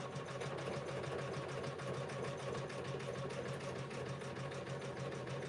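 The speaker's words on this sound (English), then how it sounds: "we're going to start back stitching" Embroidery sewing machine back stitching an appliqué letter on a sequin fabric hoodie, a steady, fast mechanical whir and needle chatter running continuously and close.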